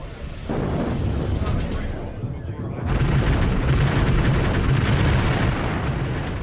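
Heavy artillery bombardment during the Soviet assault on Berlin, a dense, continuous rumble of booms and blasts that stays loud throughout, with a brief dip in the middle before the barrage swells again.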